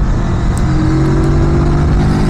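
A 2024 Macbor Rockster 410 motorcycle engine revs in third gear near 8,000 rpm, a loud, steady droning hum close up with rising pitch and no talk.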